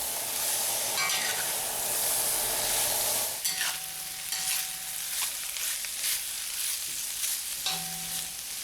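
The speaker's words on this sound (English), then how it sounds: "then we add the vegetables and stir fry everything until the vegetables are soft" Vegetables stir-fry in bacon grease in a cast iron pot, a loud continuous sizzle broken by scraping stirs and clinks of the utensil against the pot, with no voices.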